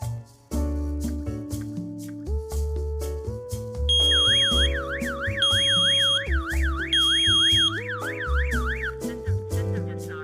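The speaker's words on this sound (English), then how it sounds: "After arming the smoke alarm, the host will also alarm." A burglar and fire alarm host sounds after its smoke alarm is armed, an electronic warbling siren with repeated beeping tones, loud and continuous over a busy musical melody.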